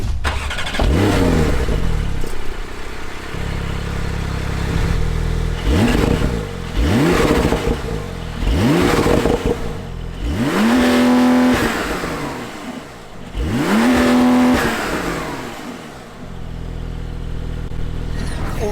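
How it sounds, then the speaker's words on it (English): A Porsche 911 Turbo S engine revs hard while accelerating, with repeated rising surges and gear changes over nearly twenty seconds, loud and close from inside the car with no talk. "You would have just heard the revs"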